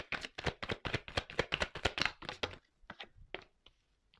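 Tarot cards gathered and shuffled by hand, a rapid close run of crisp slaps and riffles that thins into a few scattered taps.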